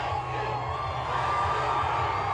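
Fans at the Oklahoma City Thunder NBA championship parade cheer and shout continuously, a loud roaring crowd with whoops and children's voices mixed in, filling the street.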